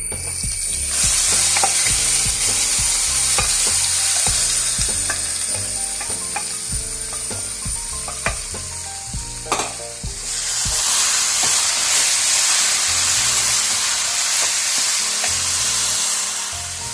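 Steady sizzling of roasted coconut with cooked yam and cowpeas in a pan, with a spatula scraping and stirring in a quick, repeated rhythm throughout.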